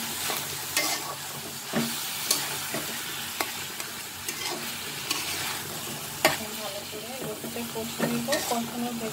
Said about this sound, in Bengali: কষানোর ভেতরে আমি এখন মাছ ভেজে দিয়েছি, আমি লোকের ভিতরে কষিয়ে নিব